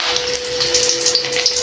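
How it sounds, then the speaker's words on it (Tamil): Curry leaves hit hot oil and set off a loud, close, hissing sizzle with fast spitting crackles that runs unbroken for a moment. "இந்த கருவேப்பிலையை வந்து இந்த எண்ணெய்க்குள்ளே போட்டுடலாம்."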